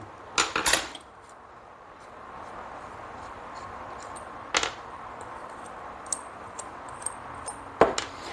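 Metal parts clink and clatter as the float bowl and pieces come off a Honda carburetor on a workbench, with a few sharp knocks near the start and sparse small clicks later in a quiet room.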